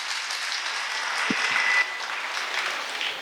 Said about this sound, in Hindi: एक बार जोरदार ताली दोनों के लिए बजा लीजिए